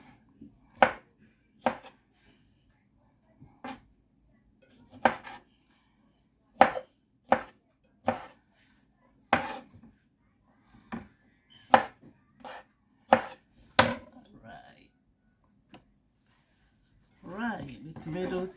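Knife chops tomatoes on a cutting board for an avocado salad, sharp separate thuds in an uneven rhythm with pauses, close and clear, and a voice speaking briefly at the end.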